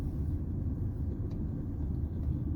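Steady low road rumble heard from inside a moving car on a Virginia highway in heavy Saturday traffic, a continuous, even drone with no talk over it.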